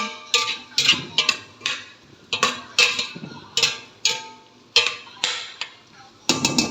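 Sautéed vegetables stirred in a pan with a little dried fish, a utensil knocking and scraping the pan in a loose rhythm of repeated clacks, close and alone.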